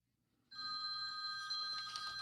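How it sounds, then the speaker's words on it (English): A telephone bell rings steadily and close, a continuous trilling ring starting abruptly after a short silence and sounding alone with no talk. "It's my phone ringing."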